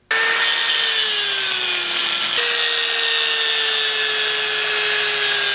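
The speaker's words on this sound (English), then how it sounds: "my next step is to go ahead and cut out this centerpiece right in here" A power tool cuts the centerpiece out of a welded motorcycle subframe tray on a Honda CB500F scrambler build, a loud, steady whining grind close by with a brief break midway before it carries on alone.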